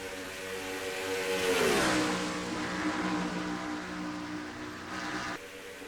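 Race cars in a racing video game drafting down the Nellis straightaway, engines roaring close with a rising then falling pitch as cars sweep past, steady and loud, with faint commentary underneath.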